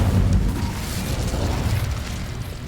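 Incendio fire spell cast in Hogwarts Legacy, a loud rushing, booming burst of flame that rolls on continuously for a few seconds, close and dense with no talk.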